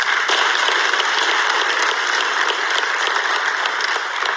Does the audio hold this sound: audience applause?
yes